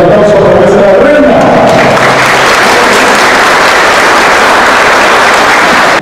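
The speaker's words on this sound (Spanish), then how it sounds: "El aplauso para nuestra reina." An audience applauds for the parish queen of La Asunción at her coronation ceremony, with a loud, sustained wash of clapping that follows a speaker's voice at the start and continues strongly to the end.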